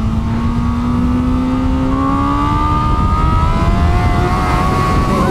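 A 2021 Honda Fireblade SP superbike screams loud and close on a racetrack, its engine pitch climbing steadily through the revs as it accelerates, with no pauses or talking.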